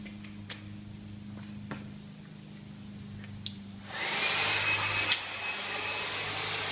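A blow dryer aimed at a garage door sensor switches on partway through and then blows with a loud, steady whoosh. Soft ticking clicks and a low hum come before it starts.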